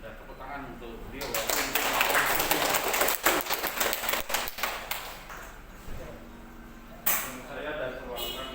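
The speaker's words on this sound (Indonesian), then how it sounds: "Dan tepuk tangan untuk beliau." An audience at a family planning outreach event in Morowali breaks into applause, a dense burst of clapping swelling for a few seconds and then thinning into scattered claps, heard under and between voices talking.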